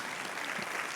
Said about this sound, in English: Je suggère qu'on l'applaudisse avant même qu'il fasse